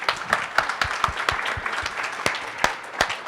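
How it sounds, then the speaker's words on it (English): Applause from an audience at a moderated panel on bridging the political divide, a dense patter of many hands with a few sharper claps standing out, moderately loud and unbroken throughout. "So give yourselves a round of applause just for being here too."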